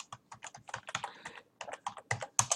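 Computer keyboard keys tapped in quick bursts while entering text into an Excel spreadsheet, crisp close clicks in short clusters separated by brief pauses, with no talking.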